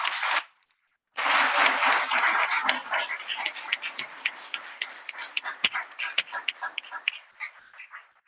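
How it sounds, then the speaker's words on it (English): Audience applause at an international academic conference: a short burst that breaks off, then a long, dense round of clapping with sharp individual claps standing out as it slowly thins toward the end. "let us have huge applause for sir"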